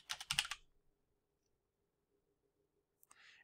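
Brisk typing on a computer keyboard, entering an email address: a quick run of close, crisp key clicks, then near silence before a few more soft taps at the end.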